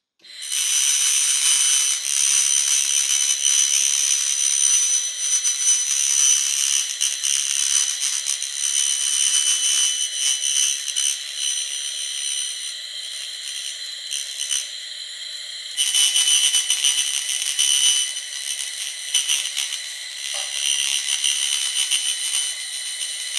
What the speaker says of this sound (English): a highly capable 3-in-1 fiber laser system that allows me to cut, weld and clean all in one machine. I will let the machine do the talking.